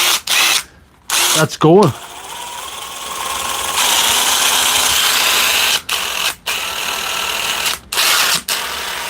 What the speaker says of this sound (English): we've got a impact driver